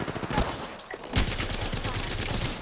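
Automatic weapon fire in the video game Apex Legends, rapid bursts of shots with one sharp louder crack, dense and continuous over a couple of seconds.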